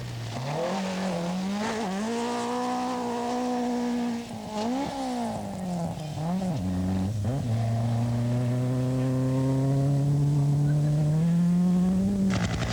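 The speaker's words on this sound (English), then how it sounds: "Michel Sala struggles past with a very sick-sounding car." A sick-sounding rally car in the 1984 Dubai International Rally struggles past, its engine loud and close, the pitch wavering and dipping before it climbs in a long strained drone.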